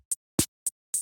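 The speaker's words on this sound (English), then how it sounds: "And then I just added a little intro drum segment." Sparse GarageBand drum intro built around a hi-hat: four short, sharp hits spaced evenly within a second, one carrying a low thump, each separated by clean silence.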